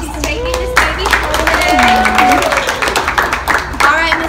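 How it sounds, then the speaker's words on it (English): An audience at a Cabbage Patch doll adoption event gives a round of applause. Irregular claps are mixed with children's and adults' voices and squeals, with talking running over it. "If everyone will give Zoe a round of applause"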